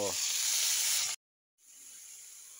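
Ginger, onion and soy sauce sizzle loudly in a pan for tofu, a bright hiss that cuts off abruptly for a moment, then returns softer and steadier.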